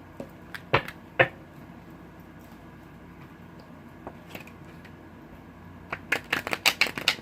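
Tarot cards are handled and shuffled: scattered single snaps and taps early on, a quiet stretch, then a quick cluster of crisp card flicks near the end, close and fairly soft.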